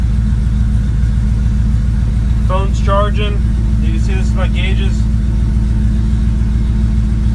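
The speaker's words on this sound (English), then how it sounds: "All right, truck's running" Studebaker pickup rat rod engine idling close by, a loud steady low rumble with an even pulsing throb throughout, someone talking briefly over it.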